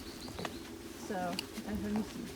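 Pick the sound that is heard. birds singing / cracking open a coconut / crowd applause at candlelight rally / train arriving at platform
birds singing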